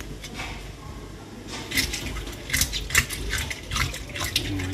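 Water splashes and runs nearby as a fish is scaled in the water, with irregular scraping and clinking sounds mixed in.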